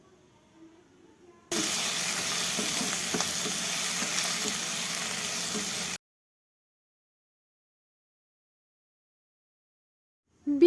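Fresh beans frying in oil in a kadai give a loud, steady sizzle that starts abruptly, runs for about four and a half seconds and then cuts off, with no talking.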